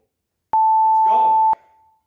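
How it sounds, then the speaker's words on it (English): A countdown timer during a weight-training exercise set gives one loud, steady electronic beep lasting about a second, followed by a brief fading tail. "We wait for the countdown timer."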